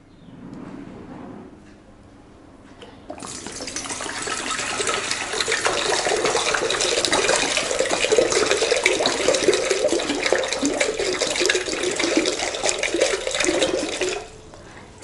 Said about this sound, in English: I'm going to empty this bottle of water into this vessel